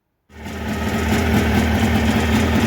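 A Jawa motorcycle with a 638 engine starts and runs just after repair, settling into a steady, close, rumbling idle with a buzzing, slightly rough tone and no voices.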